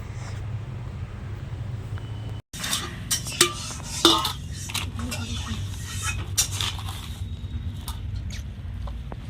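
Dishes and cutlery clink and scrape while food is served to a brother in a Bengali home kitchen, with light, irregular taps over a low background hum and a voice talking quietly.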